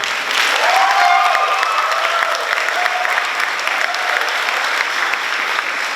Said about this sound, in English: Can you please stand up so we can give you a round of applause?